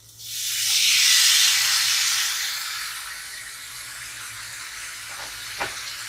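Chicken and beef steak pieces frying in olive oil in a pan over medium heat give a steady hiss that swells early, then settles into a softer continuous sizzle, with a few faint clinks near the end.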